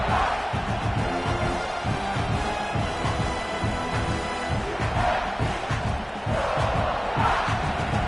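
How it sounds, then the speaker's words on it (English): Stadium crowd at a football game roars with sustained, chanting energy early in the contest, a loud, dense wall of many voices with rising shouts and swells throughout, no clear talk over it. "Listen to the crowd energy here in the early going."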